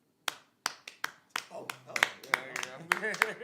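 Sharp, separate hand claps start slowly and then come faster in a deliberate slow clap, recorded close in a podcast room while people talk and react over the later claps.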